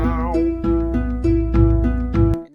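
A short Fwog monster tune from the game My Singing Monsters: a bright, reedy synth melody of a handful of quick notes over a steady low tone, ending in a brief sharp click.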